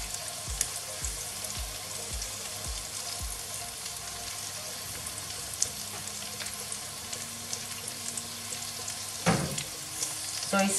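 Fish curry ingredients fry on high heat for a Bengali fish curry, giving a steady close hiss and crackle with scattered spits and low stirring knocks throughout.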